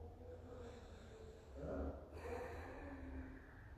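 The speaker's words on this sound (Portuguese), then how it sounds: "Respira fundo, de preferência puxando o ar pelo nariz e soltando pelo próprio nariz" A slow, deliberate breath drawn in and released through the nose during a guided breathing meditation, soft and close, with a brief pause between inhale and exhale.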